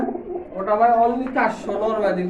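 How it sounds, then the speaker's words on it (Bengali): Pigeons coo close by in a pigeon loft, a run of low throaty warbling calls with a short break in the middle, loud and clear. "এই পাশে একজোড়া ঘিয়ে চলে কবুতর আছে"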